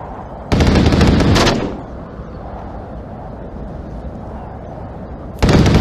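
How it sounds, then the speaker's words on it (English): Heavy gunfire from the Onward VR shooter on the Downfall map in Uplink mode erupts in a loud burst of rapid shots, falls to a low battlefield rumble, then a second volley breaks out at the end. "Where are you shooting?"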